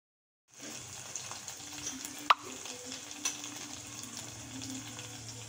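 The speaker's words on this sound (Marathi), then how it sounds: "आपण जे लाल मिरचीची पेस्ट ॲड केली आहे ती व्यवस्थित शिजली पाहिजे." Red chili paste fries in oil for a fish curry, making a soft, steady sizzle with gentle stirring and a couple of brief metallic taps. The sound is faint and close, with no talking.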